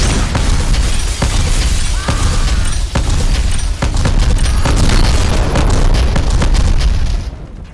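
Grenade explosions in the video game Black: a dense, loud barrage of booms and crackling debris lasting several seconds, with repeated sharp blasts over a rumbling roar that cuts off at the end.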